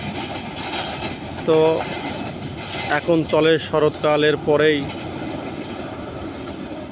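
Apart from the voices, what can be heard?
Kopotakkho Express train passing, Khulna to Rajshahi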